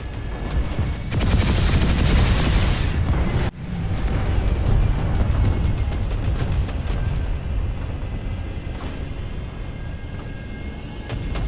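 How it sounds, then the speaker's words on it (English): An aircraft in the online shooter Planetside 2 makes a strafing run, with a dense, loud burst of rapid gunfire followed by continuous rumbling explosions and engine roar that stays heavy throughout. "Let's see if we can do a strafing run on this guy."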